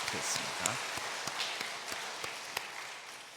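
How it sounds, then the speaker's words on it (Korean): Scattered applause from a church congregation during a Sunday worship service, a soft wash of hands with a few sharper claps standing out, some voices murmuring underneath. "다시 한번 감사와 격려의 박수로"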